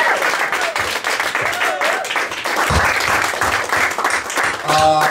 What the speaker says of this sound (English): give a round of applause for Jabari Exum